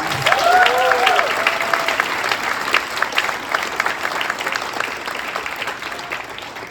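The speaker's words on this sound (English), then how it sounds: "Can we give everyone a round of applause?" A gala audience breaks into a round of applause, with loud, dense clapping at the start that gradually thins and fades. A voice is briefly heard early on.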